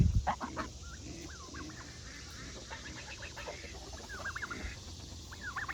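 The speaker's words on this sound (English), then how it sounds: "Here's Mike's turkeys." Turkeys gobble and chirp in a flock nearby, scattered calls repeating over rustling ground noise, with no one talking.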